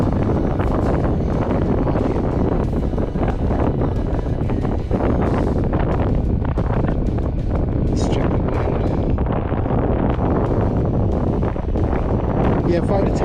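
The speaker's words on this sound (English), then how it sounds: "Oh, but the wind is so bad." Strong wind buffets the microphone steadily while fishing from a kayak on open water, a constant loud rushing roar with gusty fluctuations throughout.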